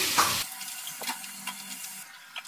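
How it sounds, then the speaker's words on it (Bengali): Potato pieces coated in salt and turmeric fry in a pan with a soft, continuous sizzle, broken by a few light clinks and stirring scrapes. "আলুটা আমি ভালো করে ভেজে নিচ্ছি।"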